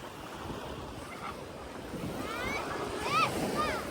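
Waves lapping on a small lake under rushing wind noise, a steady washing texture with a few faint birdlike chirps toward the end.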